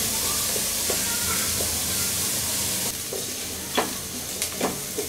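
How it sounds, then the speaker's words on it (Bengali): Vegetable fried rice stir-fried over high heat in a ceramic pan, with a steady hissing sizzle underneath and several soft scraping and stirring clicks toward the end. "এটা হাই হিটেই সবসময় ভাজতে হবে।"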